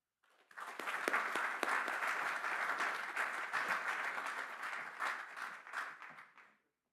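Warm applause from a lecture audience greets Dr. Richard Phillips, a dense burst of clapping that swells quickly, holds steady for several seconds and then fades out.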